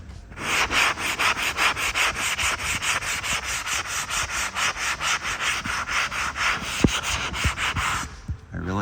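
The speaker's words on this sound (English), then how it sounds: "All I have to do really is just kind of a light sand to go over it." Light hand sanding over a drywall patch makes a steady, rhythmic back-and-forth rasp, close and even, with a few soft knocks near the end.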